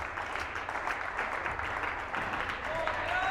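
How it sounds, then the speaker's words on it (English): Warrior fans cheer and clap steadily through a rally at a boys varsity volleyball match against Nipmuc in a school gym, a broad continuous roar with no words picked out. "Crowd gets into it a little."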